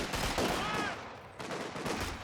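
Dense, continuous gunfire rattles through a Company of Heroes 2 battle, bursts of rifle and machine-gun shots layered over one another at close range with no pause.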